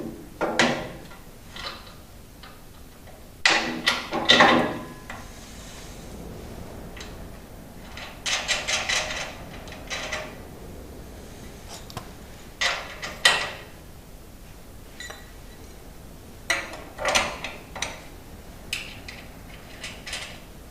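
Bolts and a new buffer being fitted to an 8 ton Kinetic log splitter, heard as scattered metallic clanks, taps and ratcheting clicks in short bursts over a quiet background, with no talking.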